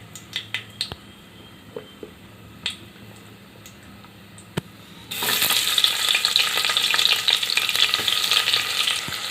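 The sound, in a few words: chopped onion frying in pan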